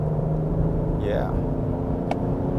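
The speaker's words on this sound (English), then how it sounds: "so it's got plenty of power when you ask it to go" A Lincoln Aviator SUV's engine pulling steadily under acceleration, a low continuous rumble heard from inside the cabin, with a person talking over it.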